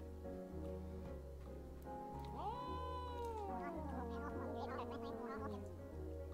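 A cartoonish cat meows once, a long rising-then-falling call, in the video game Calico, heard over a steady looping background music bed with a soft electronic pulse.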